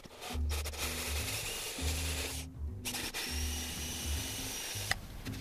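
A drill bit bores into hard oak in short bursts, a grinding whir that starts and stops several times with brief pauses between passes.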